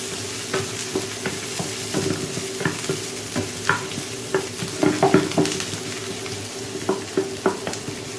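Squid adobo frying in a pan while being stirred, giving a constant hiss of oil and irregular scraping taps from the utensil, close and moderately loud, with no voices.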